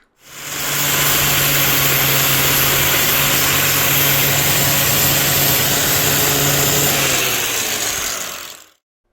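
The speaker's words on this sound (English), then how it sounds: "we're going to pretty it up a little bit with my angle grinder and flap disc" An angle grinder fitted with a flap disc grinds rust off a metal wedge, a loud, steady high-pitched whine with a gritty abrasive rasp running continuously for about eight seconds before cutting off.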